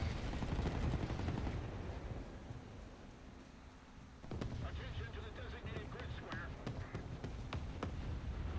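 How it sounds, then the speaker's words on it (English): A video game machine gun rattles in rapid, sustained bursts, loud and rumbling at first, then easing into a lighter stream of quick shots, with speech mixed in. "Fire from machine gun, spacebar."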